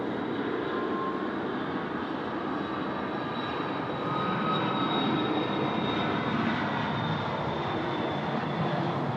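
Envoy Dassault Falcon 7X business jet rolls for takeoff on runway 16 right at Sydney Airport at night in heavy rain, a steady broadband engine roar with a thin whine, building slightly louder midway.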